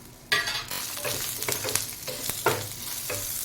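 Mango chutney ingredients, including chillies and urad dal, sautéing in a hot pan: a steady close sizzle with repeated scraping stirs of a spoon across the pan, no talking.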